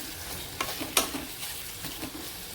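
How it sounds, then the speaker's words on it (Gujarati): A spoon works dabeli masala through cooked potatoes in a hot pan, giving soft scraping strokes and a few sharper clinks over a faint sizzle, close and quiet. "હવે આપણે આને મિક્સ કરી દેવાનું છે"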